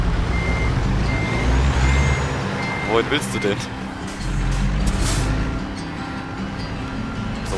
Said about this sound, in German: Der LKW fährt einfach so sinnlos weiter.